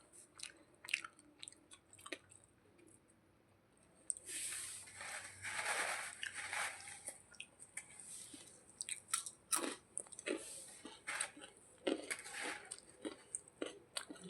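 A pet dog crunches peanuts with quiet, irregular chewing and biting clicks, nearby but faint, with some louder bursts in the second half.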